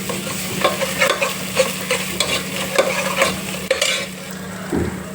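Onions frying in a pan with ginger garlic paste for egg pulusu, stirred with repeated scraping strokes over a constant sizzle. The stirring comes in irregular clatters close by, and no one speaks.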